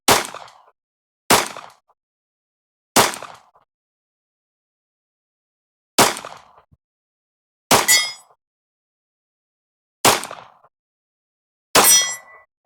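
A concealed carry pistol fired through a magazine, seven sharp shots spaced one to two seconds apart, close and loud, some followed by a ringing metallic clang from a steel target, with no talking.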